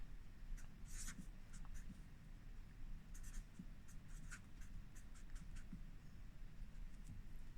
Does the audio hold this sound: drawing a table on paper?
yes